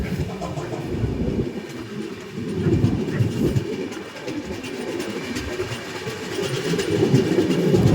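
A train rumbles past on the railway line with heavy low clatter and rhythmic clickety-clack of wagons, loud and close, swelling toward the end.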